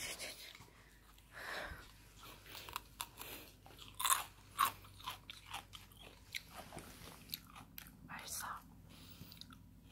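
A dachshund eating cucumber, crisp crunching and chewing bites coming in irregular bursts close by, with soft talk and quiet breathing in the background.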